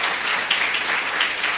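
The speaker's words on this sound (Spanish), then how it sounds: "Démosle fuerte aplauso al Señor" A church congregation applauds during a Catholic service, many hands clapping in a fairly loud, continuous burst with slight swells in intensity.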